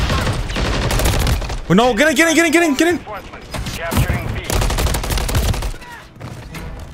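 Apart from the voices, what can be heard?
gunfight in video game Modern Warfare III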